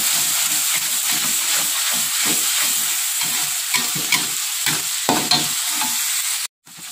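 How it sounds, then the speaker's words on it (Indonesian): Spice paste sautés in a pan, a loud steady sizzle and hiss with rhythmic scraping stirs repeating throughout, ending in a sudden brief silence. "Ini tentunya kita tumis sehingga mengeluarkan aroma wangi."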